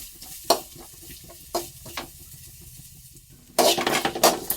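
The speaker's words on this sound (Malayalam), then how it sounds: "അപ്പം നല്ലതുപോലെ ഒന്ന് വറുത്തെടുക്കാം" Grated coconut sizzles while being fried in a pan, with a spoon scraping and stirring it in several short, distinct strokes, the last ones louder and closer.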